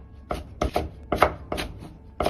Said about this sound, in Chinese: 接着把辣椒从中间先片开，再斜刀切成稍微粗点的丝